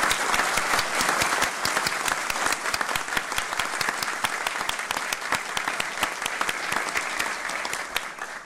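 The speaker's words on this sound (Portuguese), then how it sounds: "quero pedir uma merecida salva de palmas ao conselheiro Sidney Beraldo" Sustained applause fills a formal court session honoring a councillor, many hands clapping in an even, unbroken roar for several seconds.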